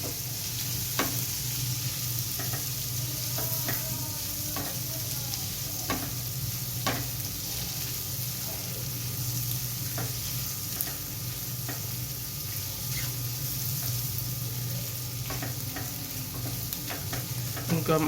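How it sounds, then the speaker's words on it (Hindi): Chopped boiled eggs are stirred into sizzling masala in a pan for a street-style egg masala sandwich, with a steady frying hiss under repeated scrapes and taps of the spoon, close and alone without talk. "इसके बाद हम इसमें अंडे ऐड कर देंगे और बॉयल किए जो हमने काट के रखे हुए थे, और इसको अच्छे तरीके से मिक्स कर लेते हैं"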